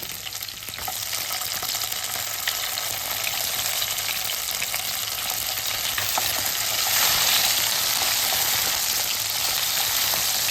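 Onions and tomatoes sauté in hot oil in a pan, producing a loud, continuous frying sizzle with occasional stirring scrapes that builds slightly toward the end.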